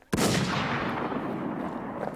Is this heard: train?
no